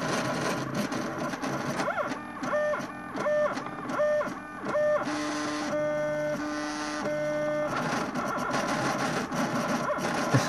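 Mendel90 3D printer running Marlin firmware prints a 20 mm test cube, its stepper motors whining in shifting, repeated pitched tones over a steady mechanical hum, close and continuous with no talk.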